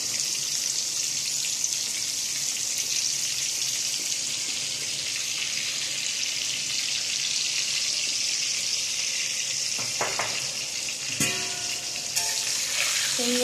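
Eggplant pieces frying in oil in a pan, seasoned with salt and turmeric, give a steady, close hissing sizzle throughout, with a few brief scraping stirs of a spatula near the end.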